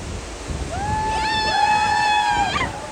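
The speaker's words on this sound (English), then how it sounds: "We're literally in the waterfall here." Roaring water inside the spray of Niagara Falls, heard from a boat, forms a loud, continuous broadband rush, with a long steady whistle-like tone rising over the roar midway.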